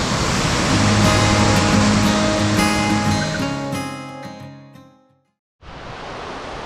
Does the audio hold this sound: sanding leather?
no